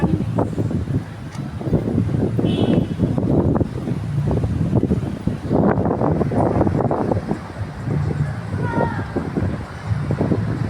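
Gusty wind rumbles and buffets the microphone in uneven bursts, with people talking under it.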